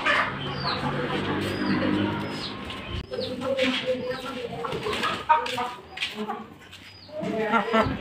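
A domestic hen and rooster are released from a cage and shown off; bird calls and clucking-like sounds come up close and fairly loud over busy background noise, mixed with people talking.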